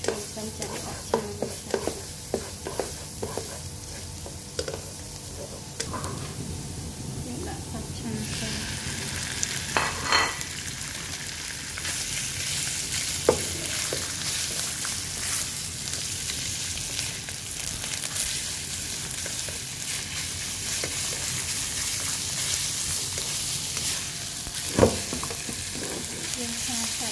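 Green beans and pork liver stir-fried in a hot oiled wok with a wooden spatula: steady close sizzling and frying hiss throughout, broken by repeated scraping and stirring knocks, with no talk.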